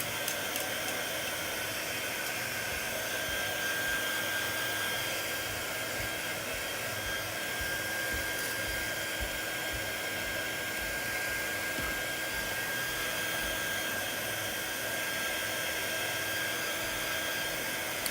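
Hair dryer blowing steadily on a brushed craft heart for a candy heart project, a continuous close, loud airy roar with hiss that holds even for the whole stretch, no talking.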